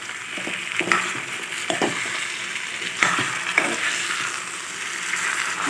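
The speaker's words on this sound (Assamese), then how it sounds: "ভাজি পেলাই এতিয়া পচলাখিনি ঢালিছোঁ, আৰু এইখিনি ধুনীয়াকৈ লৰাম।" Chopped plantain stem being stirred into fried potatoes and lentils in a small wok: a continuous sizzle under scraping strokes of a spatula against the pan, with occasional metallic taps, close and steady, with no speech.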